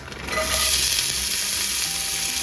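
Peppers and onions hit hot oil in a pan and burst into a loud, close, continuous sizzle that swells after a quieter start and holds steady, with no talking.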